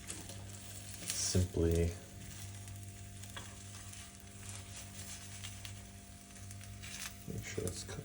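Eggs fry quietly in a pan in a small home kitchen, a soft steady sizzle running underneath a person talking, with a brief clatter of stirring or handling near the start.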